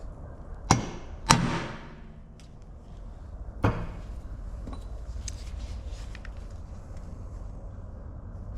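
A metal punch is struck with sharp, loud hammer hits to make a small hole while repairing broken taillight studs on a 1967 Chevelle: two quick strikes, then a single later blow, followed by faint handling noises.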